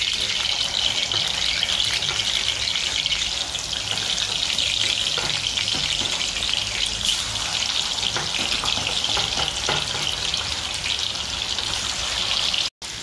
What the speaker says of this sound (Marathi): हे बघा, मीडियम गॅसवरती आता हे चांगलं फ्राय करून घ्यायचं आहे